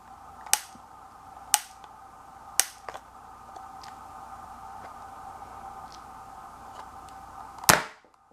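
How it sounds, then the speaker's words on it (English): A homemade mini gas-powered airsoft pistol firing at a cereal box: three sharp cracks a second apart, then a faint steady hiss with small ticks, and a louder final pop near the end. "Firing at the cereal box now."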